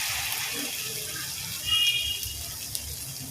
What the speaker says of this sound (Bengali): আমি এইভাবে বেসনে ডুবিয়ে পাতাগুলো তেলে দিয়ে দিলাম।